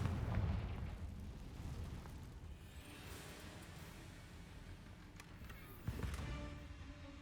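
Confringo blasting spells in Hogwarts Legacy, a deep booming explosion at the start fading into a rumbling game soundscape, with a second sharper blast near the end.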